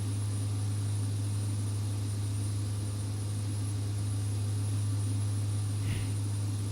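Beechcraft King Air C90 turboprop engines spooling at takeoff in the X-Plane 11 flight simulator, departing St. Barts: a steady, loud, unbroken engine drone with a deep hum, heard alone throughout.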